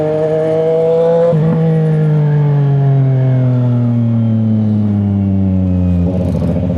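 A CFMoto 675NK inline-three motorcycle fitted with an Orion full exhaust revs loudly and close up, its bassy note rising and then holding in a long sustained drone with a brief blip near the end. No one speaks.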